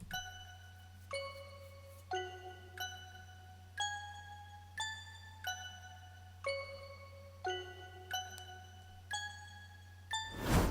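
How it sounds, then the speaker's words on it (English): Eleven or so bright synthetic bell plucks from a Nexus preset, one about each second, ringing with clean harmonic tones over a low steady hum, fairly quiet. "I actually got me this bell pluck from this Young Chump Nexus preset bank"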